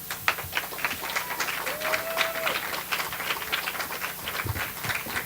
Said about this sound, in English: Can we give another round of applause for Jonathan from moving from Arizona to San